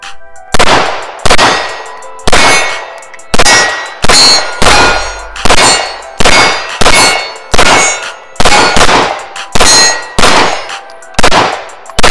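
Repeated loud gunshots from a magazine fired downrange at an outdoor shooting range, about a dozen sharp cracks spaced roughly a second apart, each ringing briefly before the next shot.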